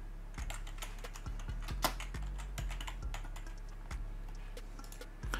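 Someone types a short search phrase on a computer keyboard, producing a quick irregular series of close, crisp key clicks, with a firmer press near the end and no talking.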